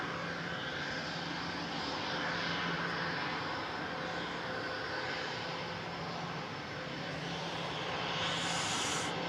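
Turkish Airlines Airbus A321neo jet engines at Manchester Airport, a steady broadband roar with a faint tonal hum, held at a fairly constant level throughout with a slight rise near the end.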